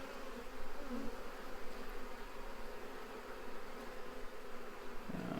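A dense, steady buzz of many honeybees hums continuously, close and fairly loud, with no voices, as the bees are transferred into a new Apimaye hive.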